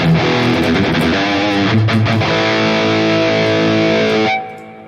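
An electric guitar plays a rhythm part through a NUX MG30 modeler on its Rectifier amp model with a little reverb. The distorted chords are loud and sustained, then the final chord rings out and its reverb tail fades.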